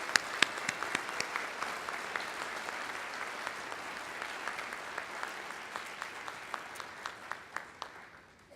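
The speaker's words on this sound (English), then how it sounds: "So I would like for you all to give Dr. Shivers a round of applause." Sustained applause from the audience at a senior banquet, dense and steady throughout with a few sharper individual claps standing out, moderately distant.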